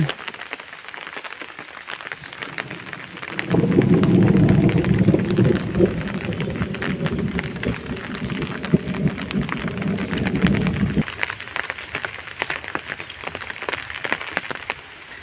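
Heavy rain pours down on a village in Bangladesh in a dense, loud wash after a quieter start, with a low rumble beneath, then eases to lighter patter.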